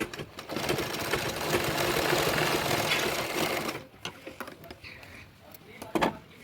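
A domestic sewing machine stitches lace onto a small zero-size child's dress in a home setting, running in a steady whirring burst for nearly four seconds before stopping, followed by quieter fabric handling and clicks.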